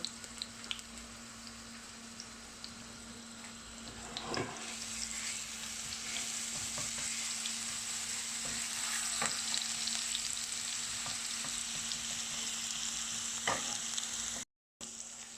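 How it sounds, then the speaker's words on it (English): Garlic frying in hot oil in a pan for palak paneer, a steady broad sizzle holding throughout at close range, with a few sharper crackles and stirring scrapes, no talking. "firstly, the garlic goes in the oil"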